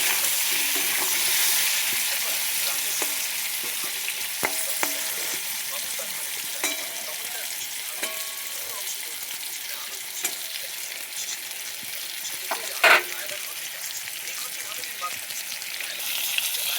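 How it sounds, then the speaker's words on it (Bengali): Food sizzles steadily in a pan after salt and turmeric go in, with soft scraping from stirring and a sharp clink near the end; a faint voice may be present. "এবার কিছুটা নুন এবং হলুদ মিশিয়ে আবার একটু নেড়ে নেবো এবং খুব ভালোভাবে মিশিয়ে এটাকে কিছুক্ষণ ঢেকে রাখবো যাতে ভাজতে ভাজতে সেদ্ধ হয়ে যায় কিছুটা"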